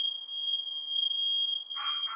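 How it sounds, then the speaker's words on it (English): A household smoke alarm, set off by plumbers working on a shower, sounds one continuous high-pitched electronic tone, then a short burst of noise at the end. "apparently they've set off the smoke alarm, or it's an actual fire"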